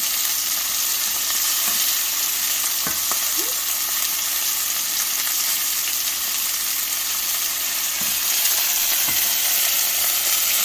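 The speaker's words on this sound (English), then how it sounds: "After 3 minutes, you want to flip your lamb, coming in nicely." Lamb chops fry in a pan with a steady, loud, close sizzle and hiss throughout, broken by a few soft clicks and scrapes.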